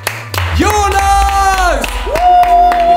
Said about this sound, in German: Einen großen Applaus bitte für